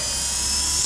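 A small remote-control helicopter flies close by with a steady, high, buzzing rotor whine that fills the whole moment without any break.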